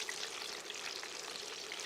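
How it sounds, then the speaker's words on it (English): Chicken tenders marinated in duck sauce deep frying in hot oil, a steady dense crackling sizzle with no pauses, heard close and alone. "they're deep frying away in here"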